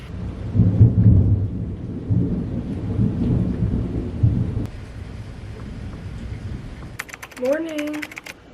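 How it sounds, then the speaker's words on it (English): Rain falling outside an apartment during a storm, a steady soft wash with low rumbling, then quieter patter later with a brief chirpy tone near the end. "I'm so happy that I can like hear the rain outside."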